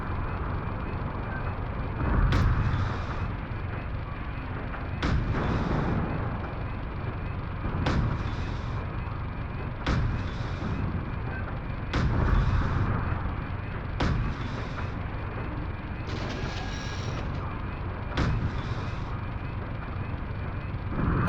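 Heavy mech cannon fire in the Steel Battalion video game, aimed at a ship, with about nine loud, sharp booms spaced a couple of seconds apart over a steady low engine hum, no talking.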